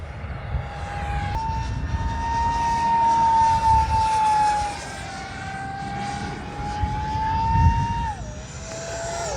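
An Arrows T-33 50 mm EDF RC jet flies overhead in calm, windless conditions, its steady electric ducted-fan whine rising and falling in pitch as it passes, loud and continuous with a brief swell near the end.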